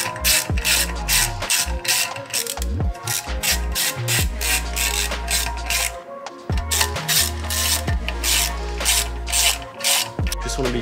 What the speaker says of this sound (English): And just slowly do up these bolts.